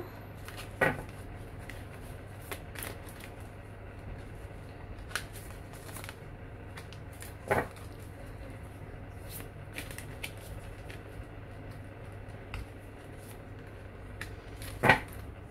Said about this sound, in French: Je coupe et je prends une carte.